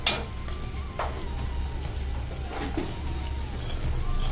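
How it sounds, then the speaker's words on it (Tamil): Cumin seeds sizzling in hot ghee in a kadai, a steady low crackle and spit with occasional sharper pops and a faint metal clink, close and continuous without talk. "ஜீரகம் போட்டு நல்லா வதக்கணும்."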